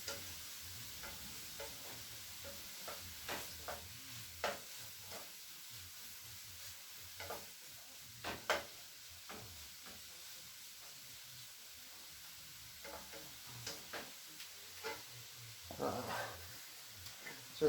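Onions softening in a hot pan for a vegan curry give a quiet steady sizzle, broken by soft scraping stirs and little clinks at irregular moments.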